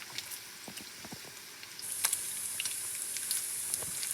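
Frozen bacon frying in its own fat in a pan, a soft steady hiss with scattered pops that grows a bit louder partway through.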